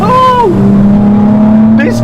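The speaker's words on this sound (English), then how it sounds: "those twin Weber carbs are just raucous" A car engine fed by twin Weber carburetors revs loud and close, holding a raucous buzzing drone as the pitch slides down and then levels off.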